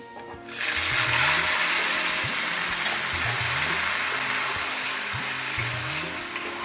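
Potatoes tipped into hot oil already crackling with curry leaves and tempered spices for a quick potato curry; a loud, steady sizzle bursts in after a short quiet moment and carries on with low knocks and scraping from stirring.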